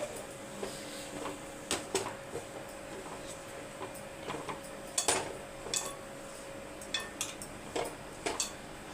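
Mushroom mixed with rice flour and gram flour in a bowl, soft clinks and scrapes of a utensil against the bowl at irregular intervals, fairly quiet and close.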